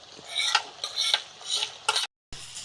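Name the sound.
stirring onions and fennel seeds frying in a pan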